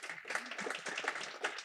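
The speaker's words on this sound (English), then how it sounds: "You can clap." An audience at a political festival claps in a short burst of scattered, moderately faint applause, with dense overlapping hand claps and no clear talking.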